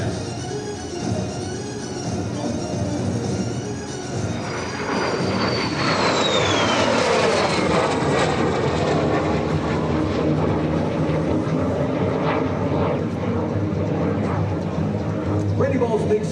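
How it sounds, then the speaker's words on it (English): A MiG-17F jet fighter makes a high-speed pass at an air show in South Texas, a loud, sustained jet roar that swells and sweeps past, with a descending whine, under continuous crowd and announcer talk. "Randy Ball in the high-speed pass."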